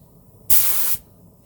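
A single short burst of hiss from a paint spray gun loaded with thinners, loud and close, lasting about half a second before cutting off.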